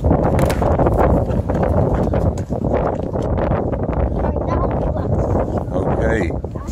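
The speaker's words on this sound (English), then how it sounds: "show you exactly how windy these 90 mile an hour winds" Roaring storm wind with 90 mile an hour gusts on Scotland's North Coast 500, a loud continuous buffeting rush that fills the whole clip, with no voices over it.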